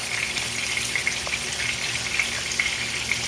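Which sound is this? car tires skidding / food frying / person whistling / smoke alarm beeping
food frying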